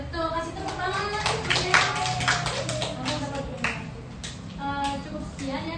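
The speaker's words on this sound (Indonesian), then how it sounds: "kasih tepuk tangan ya" Children at an orphanage dormitory community event clap in a burst of quick, uneven rhythmic applause, close by, with some voices talking over it.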